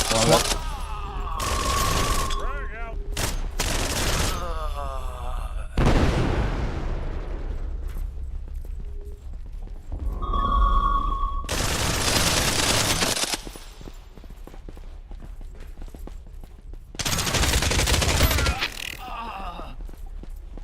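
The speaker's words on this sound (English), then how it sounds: "What gun are you using, Ket?" Bursts of automatic gunfire from a multiplayer shooter video game, with rapid fusillades alternating with quieter stretches, loud and close, with players talking over the action.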